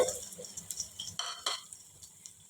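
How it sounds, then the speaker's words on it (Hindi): Sliced onions frying in a cup of oil in a pot, a quiet sizzle with soft stirring scrapes and light utensil clinks coming in irregular bursts, with no talking. "ऑयल में हमें ये स्लाइस में कटी हुई 3 से 4 अदद प्याज ऐड करने हैं।"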